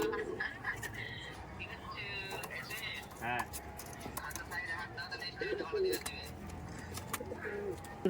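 A Pakistani dabala pigeon coos in soft, low repeated calls amid other bird chirps, partly under people talking nearby.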